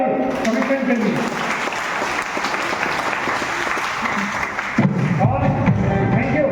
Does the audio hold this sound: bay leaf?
no